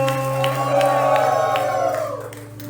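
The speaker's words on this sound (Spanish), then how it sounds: "¡Grito de júbilo!" Church congregation shouting and cheering for joy during a Spanish-language worship service, a loud sustained crowd roar with scattered whoops and clapping, fading slightly toward the end.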